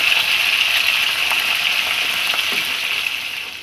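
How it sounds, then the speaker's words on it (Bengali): Fish fillets fry lightly in oil, for a mustard-paste fish curry, with a bright, continuous sizzle, close and fairly loud, that eases off slightly at the end. "আমি মাছটা বেশি ভাজবো না, অল্প একটু হালকা করে ভেজে নিচ্ছি।"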